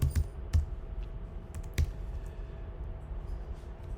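Typing on a computer keyboard while entering a search word in Adobe software, heard as a few sharp, close key clicks in an irregular rhythm over a low room hum.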